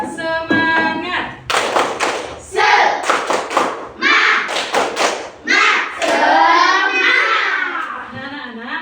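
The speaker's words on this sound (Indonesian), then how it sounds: "Kita tepuk semangat." A standing grade 5 Islamic education class of children does the 'tepuk semangat' chant, with loud rhythmic bursts of clapping and thumping mixed with shouted young voices.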